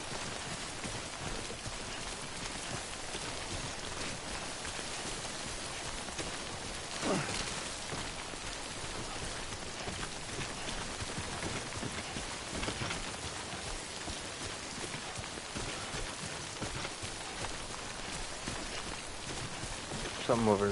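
Steady rain in the video game Death Stranding patters across the whole stretch, a dense even hiss with a couple of brief louder swells.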